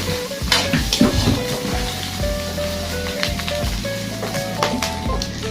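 Chopped pig lung and liver for bopis sauté in a hot pan, sizzling steadily and loudly up close, with stirring and scraping throughout.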